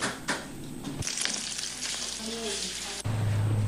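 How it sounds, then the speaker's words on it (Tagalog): Sardine-filled lumpia frying in hot oil, a loud, close, continuous crackling sizzle with sharp bursts of spattering throughout and a clatter at the end. "Saka babalutin sa lumpia wrapper at ipiprito."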